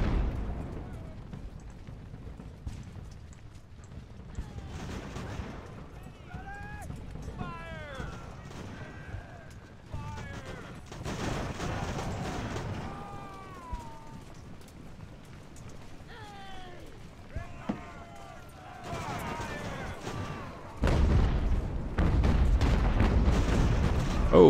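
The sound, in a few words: cannon and musket fire in Ultimate Admiral: Age of Sail video game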